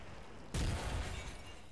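Sudden in-game explosion in Battlefield 2 bursts in after a quiet stretch, a loud deep boom with a crackling, rumbling tail that lingers to the end.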